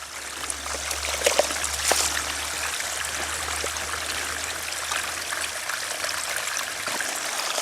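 Running water trickles and splashes steadily while being collected for handwashing outdoors, a close, continuous pour with a few sharper drips and knocks and a low hum underneath.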